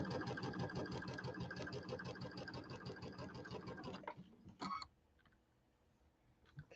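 A sewing machine stitches fabric for a quilted table topper in a rapid, even mechanical chatter for about four seconds, then stops, leaving a couple of clunks and a quiet hum.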